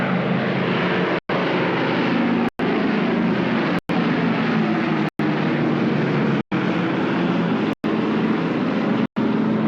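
Plane number 37 coming in with full flaps and touching down on a north runway in a wartime setting: a loud, steady broadband engine and wind roar, close and continuous, broken by several brief abrupt dropouts, with no talk.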